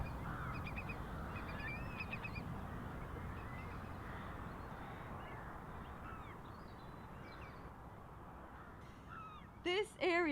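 Wild birds call across estuary mudflats in winter, with scattered chirps and cries over a steady outdoor wash of wind or water, then a few louder, sharper calls close by near the end.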